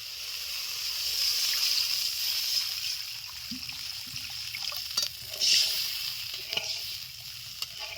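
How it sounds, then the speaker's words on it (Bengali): Water goes into a fried spice masala in hot oil, giving a bursting sizzle and bubbling that rises and then settles, with a few sharp pops and clinks. Close and fairly loud, with no voices. "মশলা ভালো করে কষে নিয়েছি তেলটাও ছেড়ে দিয়েছে এখন দিয়ে দিচ্ছি জল"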